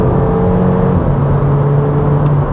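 A Mk5 VW Golf GTI turbo engine revs steadily with a paddle-shift gearbox, a loud, continuous whirring drone heard close up with no talk.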